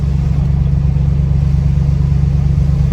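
A V8 engine in an old beater car idles at low RPM, a loud, steady, deep rumble throbbing evenly with no voices over it.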